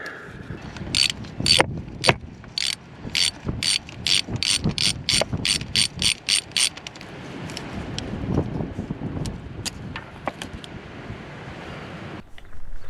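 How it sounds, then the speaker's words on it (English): Ratchet wrench unscrewing an 8mm nut during a Chevrolet Tahoe starter replacement: a rapid run of crisp, evenly spaced clicks from repeated back-and-forth strokes, then sparser clicks and rustling handling noise, close and loud with no talk. "So now we just unscrew this 8mm nut."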